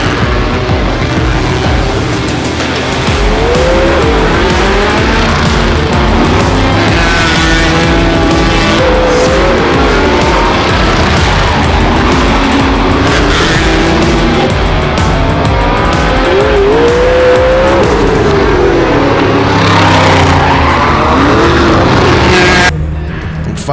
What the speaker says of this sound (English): Charles Carlson Sr. and Johan Svichers are warming up their sprints, mixing it up with the super midgets.